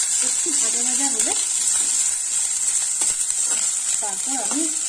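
Ginger paste frying in a pan for a dish of taro leaves, a continuous close sizzle with voice-like tonal sounds partly over it.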